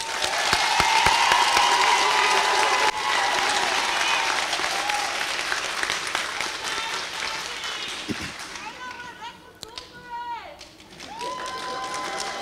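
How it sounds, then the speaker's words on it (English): Sustained applause from a large audience at a Portsmouth Public Schools Class of 2021 summer high school graduation ceremony, loud and steady at first, then thinning out, with some voices and background noise toward the end. "Please join me in one more applause for the last inductees"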